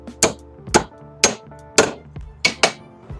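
A hammer taps a cut wooden shim onto a welded metal motor support for an inflatable boat: six sharp, close knocks at an uneven pace over a steady faint hum, with no voices.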